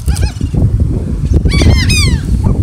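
Seagulls call loudly and close by on the New Jersey shore, a flock of harsh, overlapping squawks and cries over a busy, noisy background of wind and movement.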